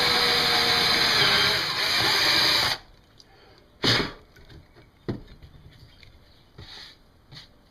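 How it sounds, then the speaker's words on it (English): A power drill whines loudly for a few seconds while drilling a small hole in a metal camping pot lid, then stops, leaving quiet with a few scattered clunks and brief noises. "drill myself a fine little hole."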